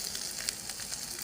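Tadka sizzling as spices temper in hot oil in a home kitchen, cooked alongside sarson ka saag and makki ki roti; a dense, steady hiss with faint crackles, close and moderately loud, no voices.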